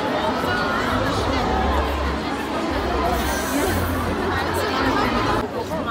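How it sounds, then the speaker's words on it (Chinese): Dense crowd chatter among fans packed together at a concert in Hong Kong, a steady, close babble of many voices with a low hum running under it. "我哋而家逼咗喺呢個人群中"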